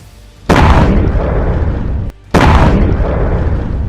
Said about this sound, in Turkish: Sanki bomba patladı.